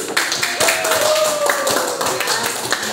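A classroom audience claps for a student group that has just finished a presentation on Papuan culture: a brief, fairly close round of scattered hand claps lasting a few seconds.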